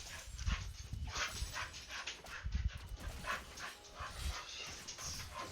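Small freshly bathed dog whimpering with a few short barks or yips indoors, several close bursts spread across a few seconds, fairly quiet under background noise.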